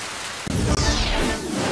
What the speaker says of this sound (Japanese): ここで突然のゲリラ豪雨。 これは激しい。